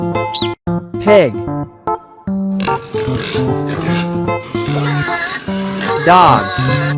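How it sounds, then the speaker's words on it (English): A pig oinks and grunts in a loud, close series of squeals and snorts, with dense, overlapping calls that build toward the end, heard without talking. "pig,"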